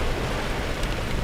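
Heavy rain pours steadily during Tropical Storm Faye on a Florida farm, a dense, continuous hiss of water with no distinct drops or pauses, close and loud throughout.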